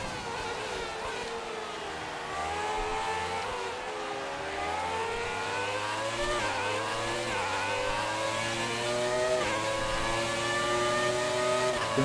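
In the F1 2019 racing game, a 1996 Williams FW18 Formula One car's engine revs steadily and climbs in pitch through repeated upshifts, sustained and prominent with no talking.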